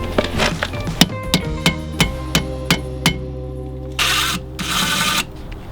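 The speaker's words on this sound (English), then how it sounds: "So this is the rusty nut right here. Now I can just get a deep socket on there." A ratchet on a deep socket works a rusty nut loose in a close series of sharp metallic clicks at an even pace, then two brief bursts of rapid ratcheting.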